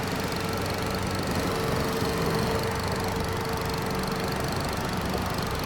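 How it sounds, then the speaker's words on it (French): A small riding lawn mower engine in Farming Simulator 25 drones steadily with a low, buzzing hum at a constant pace, with no talking. "Il me fait rire, ce son petit tracteur tondeuse."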